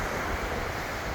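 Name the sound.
ocean waves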